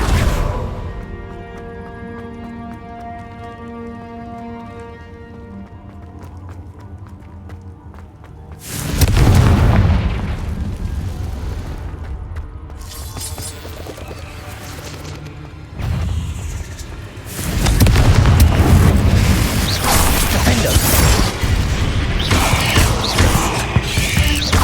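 Loud booming fire-spell blasts from Confringo in Hogwarts Legacy, a few heavy bursts arriving after a quieter musical stretch, with rumbling debris and game music running underneath.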